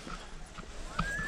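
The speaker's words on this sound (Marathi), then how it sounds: "हे म्यूल आहेत खाली चाललेत" Mules walk down a snowy Himalayan winter trekking trail, their hooves making a few soft, faint clip-clop steps in quiet outdoor air, with a thin whistling tone near the end.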